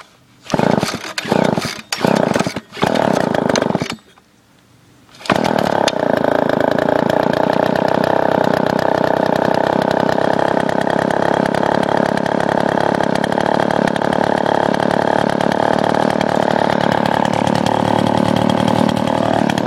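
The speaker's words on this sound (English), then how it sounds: "This thing actually can start up without the choke on first pull" A small gas engine with a broken-off choke lever is pull-started: a few rough cranking pulls and a brief lull, then it fires and runs loud and steady at a buzzing, constant drone for the rest of the time.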